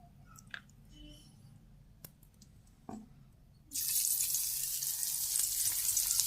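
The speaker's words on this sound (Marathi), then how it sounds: "तापलं तेल. आता स्लाइस आपली अशी याच्यात मध्ये डीप करून घेऊ." A bread slice dipped in batter goes into hot oil, and after a few soft clicks and taps a loud, steady frying sizzle starts abruptly and continues to the end.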